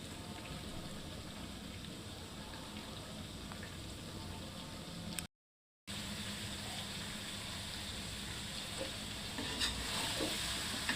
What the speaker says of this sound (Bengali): মাংসটা আমার কষানো হয়ে গেছে, কড়াইতে উঠে যাচ্ছে, তেল বের হয়ে গেছে